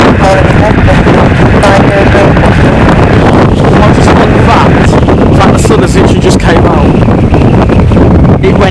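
Strong, constant wind buffets an outdoor microphone at an airport, a loud broadband roar filling the whole stretch with little variation, while a person speaks faintly beneath the noise.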